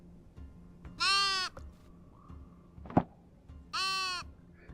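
Sheep in a video game give two loud, drawn-out bleats a few seconds apart. A sharp click falls between them, and no one talks.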